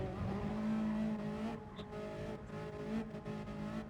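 A Ferrari Group 4 race car in Gran Turismo Sport, its engine droning steadily at high revs, easing off briefly midway before building again, with faint tire noise and no talking.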